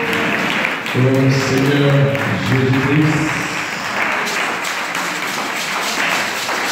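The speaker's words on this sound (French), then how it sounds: "Acclamons très très fort." A church congregation at a French-language evangelical service applauds with steady, dense clapping that fills the whole stretch, while a voice sings or speaks over it.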